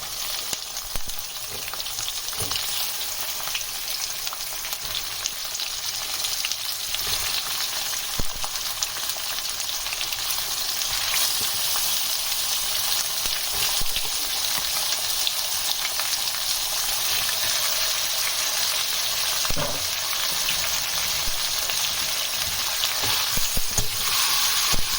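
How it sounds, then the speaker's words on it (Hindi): Boneless chicken frying with onions in a karahi over medium flame for Sindhi chicken karahi, giving a loud, continuous close-up sizzle with occasional stirring scrapes and taps. "अब मैं इसमें स्लो करके चिकन डालती जाऊंगी।"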